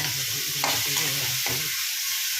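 Food sizzles and fries steadily in a pan, with a few scraping stirs of a utensil, close and continuous.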